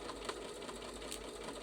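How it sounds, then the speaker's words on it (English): A sewing machine stitching through fabric, giving a faint, steady mechanical whir with a light rattling texture that runs without a break. "I'm going to just make a stitch to kind of hold that thing in place."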